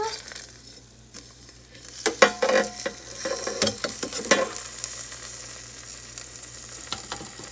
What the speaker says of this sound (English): So I'm going to turn it over.